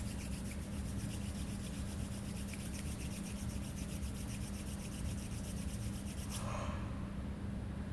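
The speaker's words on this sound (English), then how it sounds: "take your hands together somewhere above your chest and just start to rub your palms" Palms rubbing together above the chest during a relaxing fertility yoga session, a steady close swishing friction that stops near the end, no talking.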